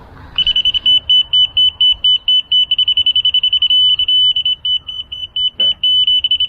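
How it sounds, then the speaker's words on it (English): A laser level receiver at a footing pour emits a loud, high electronic tone, first a string of rapid beeps, then a steady solid beep held for about a second, then rapid beeping again. "Solid beep"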